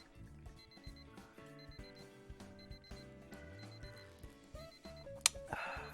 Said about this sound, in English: This alarm sounds exactly like my alarm clock.